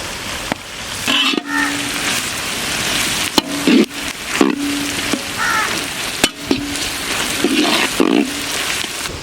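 Onions and green chilies sizzle and crackle loudly in a hot pan, with steady frying noise broken by sharp clinks and scrapes of stirring at intervals.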